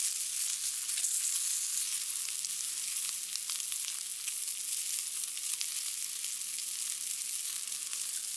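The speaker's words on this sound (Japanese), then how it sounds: "カリッパリに焼く" Homemade bacon frying crisp in a pan, a steady close sizzle with dense crackling and fine popping that continues evenly throughout, with no talk.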